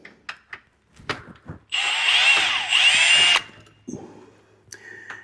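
A power tool, likely a drill or impact driver, removes the foot peg bracket bolts from a Yamaha TW200 motorcycle in a loud, close burst of about two seconds, split into two pushes, after a few light clicks and taps.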